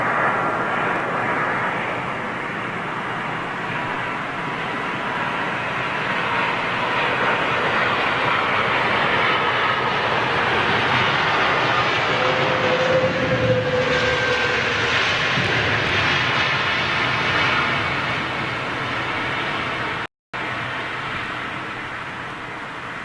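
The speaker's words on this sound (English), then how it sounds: "Absolute minimal reverse thrust." An airliner landing at London Heathrow in calm winds with minimal reverse thrust, a broad continuous jet roar rising and holding loud, with a faint whine partway through.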